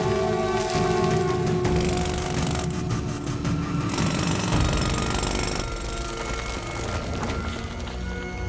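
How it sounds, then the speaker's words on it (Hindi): A power drill bores open a hidden chamber, a loud, continuous grinding buzz running steadily throughout with slight shifts in pitch and intensity. "उसको ड्रिल करके खोल दो।"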